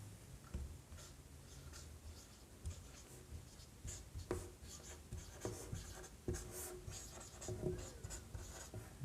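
Pen scratching across paper while a heading is written, a steady run of close scritches and light strokes with small taps between words, continuous throughout with no voice.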